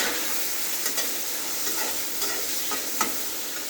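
Fish and chopped tomato fry in a pan, giving a steady, fairly faint sizzle with a few soft stirring scrapes and clicks, no voices.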